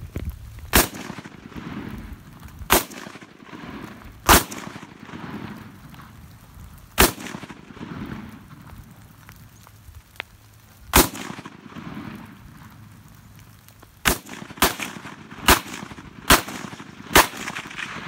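Draco pistol shots fired outdoors, a dozen or so sharp, loud bangs at irregular intervals, some spaced seconds apart and a quicker cluster near the end, with faint background noise between them.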